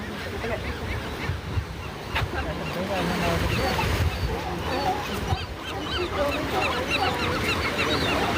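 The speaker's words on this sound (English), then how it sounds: "You can see the seals and sea lions playing in the water there." Seals and sea lions in the water, heard as a dense chorus of honking, barking calls over steady surf, with talk mixed in.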